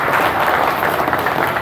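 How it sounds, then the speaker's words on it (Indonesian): An audience at an MRT construction groundbreaking ceremony applauds, loud dense clapping close by and continuous for the whole moment. "Boleh kita beri tepuk tangan untuk mereka yang terlibat di sini."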